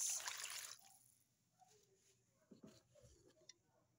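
Water poured into a hopia dough mixture, a brief splashy pour at the start followed by scattered drips and small liquid sounds.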